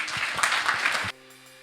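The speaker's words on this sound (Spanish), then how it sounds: "¿Qué le parece si damos un aplauso al Señor?" A church congregation claps together in a dense burst of applause that stops abruptly after about a second, leaving a faint hum in the room.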